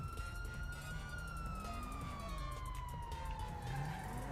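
A police car siren wails in the GTA 5 video game, rising and falling steadily over constant engine and road noise, loud and unbroken throughout.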